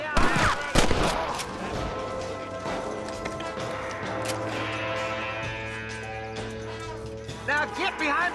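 Gunfire exchange in the Red Dead Redemption video game, with sharp shots clustered near the start over ongoing game music and voices talking throughout.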